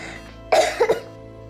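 A single short cough close by, a harsh burst followed by two quick smaller coughs, against faint background hum.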